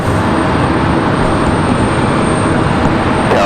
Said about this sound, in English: United 1769 off to SFO, that MAX 9 departing a moment ago.